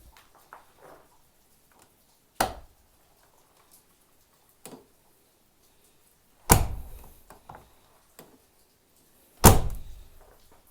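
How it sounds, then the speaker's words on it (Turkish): A Tofaş car door is worked several times, giving sharp latch clicks and heavy thunks spaced seconds apart, with small clicks and rattles in between against a quiet background. "Kapı açılma sesini de dinletmek istiyorum size."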